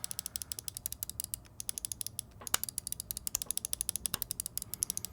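Rapid, crisp clicking repeats in quick bursts as the main buttons of a Glorious Model D gaming mouse are pressed over and over at close range, with no talking.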